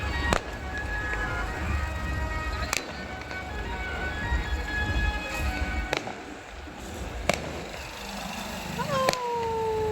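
Fireworks and firecrackers go off outdoors at night, sharp distant cracks at irregular intervals over a steady background hum, with one whistling streak near the end.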